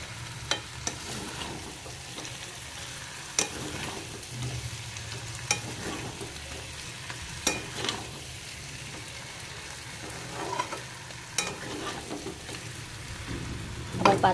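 Chicken curry sizzles steadily in a pan while being slowly cooked down with salt, with scattered scrapes and clinks of a spoon stirring through it, close and moderately loud, no talking.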